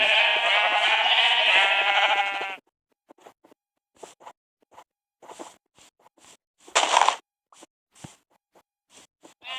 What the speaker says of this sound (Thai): อ๋อ มันคือแกะนะครับ